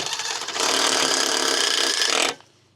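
A power drill drives a screw into an aluminum fence post, a brief whirring burst of about two seconds, close and loud, that stops abruptly.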